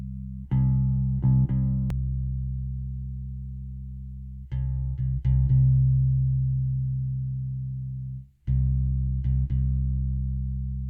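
Mixed bass guitar notes played with the phase switched, long sustained low tones with sharp plucked attacks, a few separated phrases with a brief pause before the last, no voices.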